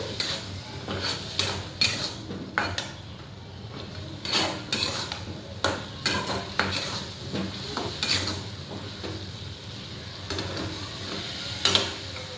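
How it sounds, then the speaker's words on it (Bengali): A spoon stirs shrimp curry with Kashmiri red chili in a pan, kochu chingri style, producing repeated close scrapes and knocks against the metal, with faint sizzling between strokes and no talking. "এখানে কাশ্মীরি লাল মির্চ। আবারও এটা নাড়াচাড়া করে নেব।"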